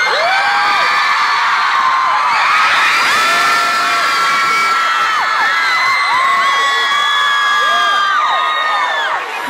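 Crowd at the VidCon stage cheering loudly with whoops, shouts and scattered clapping, a dense sustained roar of many voices filling the whole stretch.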